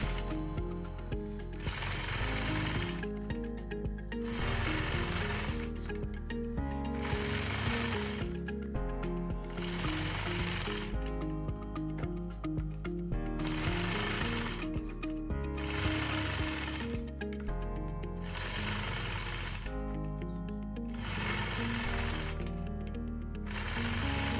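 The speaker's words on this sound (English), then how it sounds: "Whenever you're machine quilting with machine quilting rulers" A sewing machine runs through machine quilting with a ruler, its needle mechanism chattering in steady mechanical bursts separated by short pauses, close up and even in level throughout.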